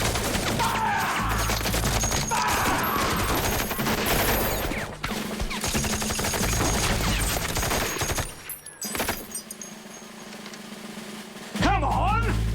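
Rifle volleys from a soldiers' firing squad in a war film, loud sustained gunfire crackling across most of the stretch with shouting voices mixed in, then a quieter gap before a final burst near the end.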